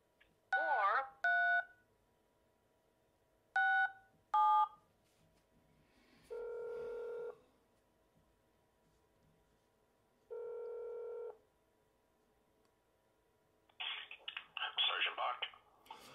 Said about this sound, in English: If you know the extension of the person or department that you would like to reach, please dial it now.